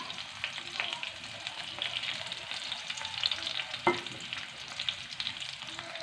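Tempering spices and dried red chillies fry in hot oil with a steady, fairly quiet crackling sizzle, a few sharper pops and a brief stirring clink over the continuous hiss.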